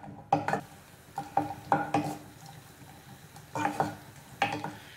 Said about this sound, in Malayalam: ഇപ്പോ കാഷ്നട്ട് ചെറുതായിട്ടൊന്ന് റോസ്റ്റ് ആയിട്ട് വന്ന് തുടങ്ങിയിട്ടുണ്ട്